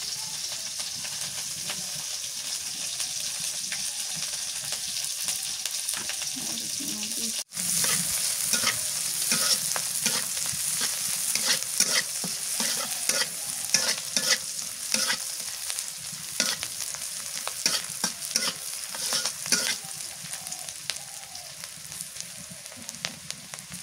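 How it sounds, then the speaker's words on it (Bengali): Chopped onion and green chili fry in a pan for a koi fish curry, giving a steady close sizzle with frequent scraping stir strokes that grow busier after a brief break partway through. "পেঁয়াজ কুচি দিয়ে দিই"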